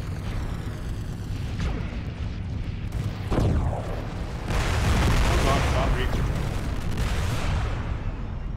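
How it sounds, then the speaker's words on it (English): Missile salvos launching from a mech in MechWarrior Living Legends on the Arboris map, a string of booming whooshes and blasts layered over constant battle rumble, with a burst of heavier explosive noise midway. "Missiles away, missiles away."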